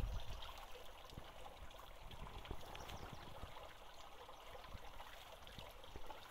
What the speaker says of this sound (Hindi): और इतनी सुंदर पानी की आवाज़